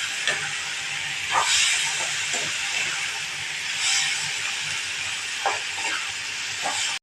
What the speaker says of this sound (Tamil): கழுவி வச்சுருக்க கடலைப்பருப்பு அதையும் இதில் கொட்டிக்கணும் அதுவும் கொஞ்சம் நேரம் வதங்கணும் எண்ணெயே வதங்கணும்